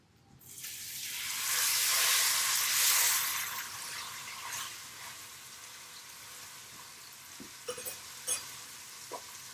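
Tri-tip meat dropping into a very hot Dutch oven for a pot roast sets off a loud, broad sizzle that peaks over the first few seconds, then settles into a quieter frying hiss with a few small clicks.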